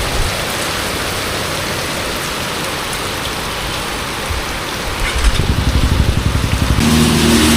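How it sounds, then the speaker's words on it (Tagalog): Heavy rain pours down steadily in a dense, loud wash, growing rougher and more intense partway through, with a low engine-like rumble underneath. "Malakas ang ulan."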